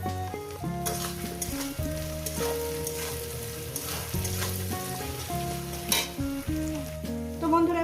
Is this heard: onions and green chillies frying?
yes